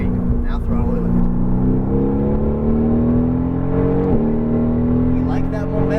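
A Mercedes-AMG GT R engine roars loud and close as it accelerates on a track, its pitch climbing steadily with a brief dip before rising again, a voice faintly beneath it.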